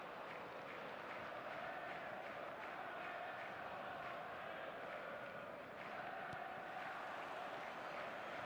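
Stadium crowd noise in a football video game on match day, a steady, dense roar and murmur of many fans filling the whole stretch at an even level, with commentary voices talking over it.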